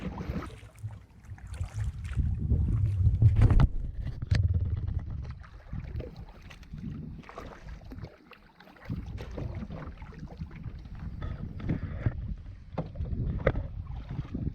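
A canoe paddling across a lake in Algonquin, with steady water swishes and sloshing from the strokes, boat knocks and light wind buffeting the microphone throughout.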